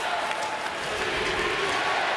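A hockey arena crowd at a Columbus Blue Jackets overtime game against the Jets chants CBJ, a broad, roaring mass of voices with some clapping, steady and loud under play-by-play commentary.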